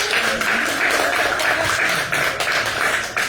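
Live audience clapping, a steady wash of applause from many hands at moderate loudness, continuous for a few seconds with no voices above it.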